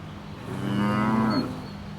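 Cattle moo in a pasture where mother cows graze with their young calves. One long, low moo rises clearly over quiet outdoor background noise.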